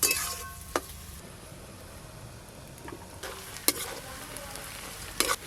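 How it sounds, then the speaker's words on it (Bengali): Chopped onions fry in plenty of hot oil, a steady close sizzle punctuated by a few light clinks and scrapes of a spoon against the pan, with nobody talking. "পেঁয়াজ কুচিগুলো এই ছাঁকা তেলে একদম লাল লাল করে ভেজে নেব"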